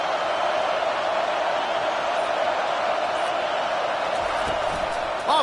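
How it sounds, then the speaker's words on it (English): Steady roar of a stadium crowd at a college football game with the Oregon Ducks, a dense continuous wash of noise with no clear peaks, sustained throughout and loud. "This crowd trying to make life miserable for this offense."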